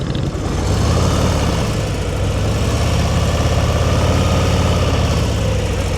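A motorcycle engine idles during slow-speed riding practice, holding a loud, steady low rumble with even vibration and no break or rev change.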